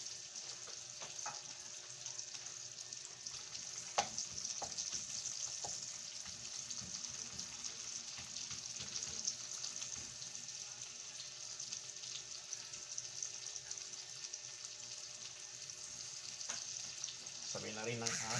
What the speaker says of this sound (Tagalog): Lagyan natin sibuyas para magisa.